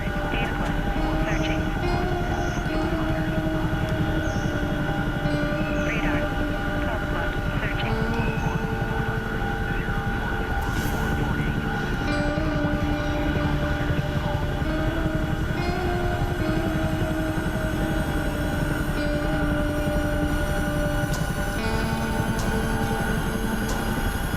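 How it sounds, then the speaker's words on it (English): A Chinook helicopter in a video game drones loudly and steadily, its constant engine and rotor rumble filling the whole stretch, with voices talking faintly underneath. "because of the Chinook being so loud"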